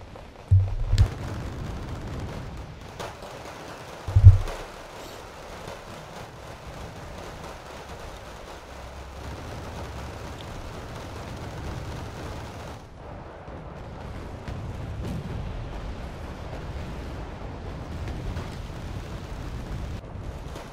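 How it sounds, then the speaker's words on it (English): Napalm artillery in Wargame Red Dragon lands as two sharp, booming blasts early on, followed by a long low rumbling roar of burning and distant battle noise. "that's to just eat up the Jaegers as well as that napalm artillery"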